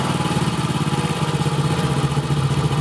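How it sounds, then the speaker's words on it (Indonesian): Honda Astrea Grand motorcycle engine idling with a fast, even putter during carburetor adjustment, steady and close with no talking. "Ini kita kecilkan putaran gasnya, cari suara yang langsung ya, tidak mati segini."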